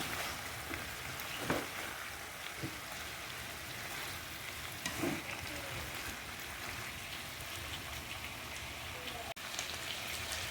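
Sautéed vegetables sizzle in a pan while being stirred, with a steady, even hiss throughout, a few louder scraping bursts, and quiet background.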